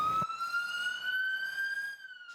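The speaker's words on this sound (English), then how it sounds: "No, a siren. One of those fire suppression vehicles." A fire engine siren wails with a single steady, slowly rising tone, fairly faint and distant, with no talking.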